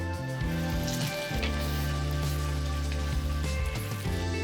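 Eggplant and potato pieces cook in a pan for an aloo baigan curry, giving a steady, close sizzling hiss that runs nearly unbroken with a low hum underneath, and no talking.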